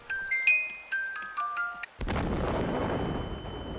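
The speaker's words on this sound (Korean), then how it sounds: "폭발해 버립니다." A cake explodes in the horror video game Don't Mess With Bober: a few bright chime-like tones, then a sudden loud boom that settles into a sustained rumbling roar.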